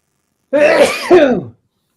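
A single loud, close sneeze, a sharp two-part vocal burst lasting about a second, followed by silence.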